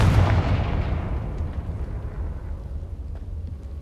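Confringo fire blast spell in Hogwarts Legacy goes off as one loud booming explosion, then a long rumbling decay fades over several seconds, with no talking.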